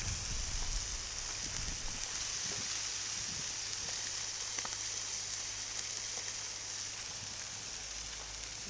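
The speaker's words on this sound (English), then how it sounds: "A little bit of bacon. That's where I'm going to cook my Brussels sprouts." Brussels sprouts cook in bacon fat on a griddle with a steady, even sizzle that holds throughout, a bright constant hiss with occasional soft pops and faint stirring.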